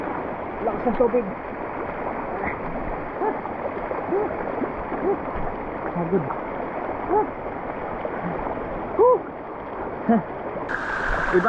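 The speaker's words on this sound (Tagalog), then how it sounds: "Lakas ng tubig." A strong river current rushes in a steady, dense wash of flowing water heard up close from a boat, with occasional splashes and people talking over it.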